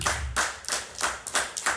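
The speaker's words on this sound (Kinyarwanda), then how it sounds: "Itangazo rya mbere nuko Yesu ari umwami, namukomera amashyi," A church congregation claps during a Sunday service announcement, rhythmic bursts of many hands landing roughly every third of a second, moderately loud and steady with no voices over it.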